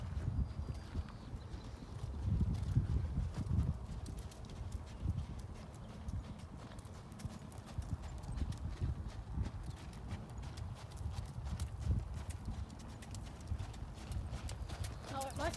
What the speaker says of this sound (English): Oh, it must be the new horses.